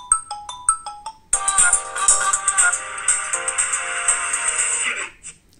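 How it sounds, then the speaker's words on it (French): A Xiaomi Mi 9T ringtone on MIUI 11 plays a few short electronic beeps, then a bright melodic tune rings out loudly and steadily for several seconds before fading. "dans l'appareil, il y a des nouvelles sonneries"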